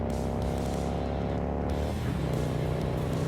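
A car engine accelerates hard on curvy mountain roads, a loud, close, continuous drone whose pitch climbs steadily, then shifts abruptly about two-thirds of the way through as the revs change.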